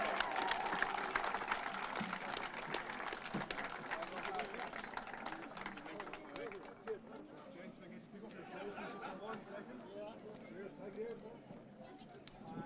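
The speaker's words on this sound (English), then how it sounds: "Give him a round of applause." Spectators at a historic motorcycle racing festival applaud a race winner, a fairly faint, steady clatter of clapping mixed with crowd chatter, thinning toward the end.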